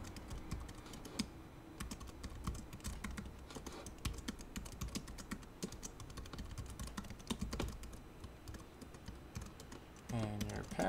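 Steady typing on a computer keyboard as sign-up details are entered for an affiliate program, a dense run of close key clicks throughout with a brief pause near the end.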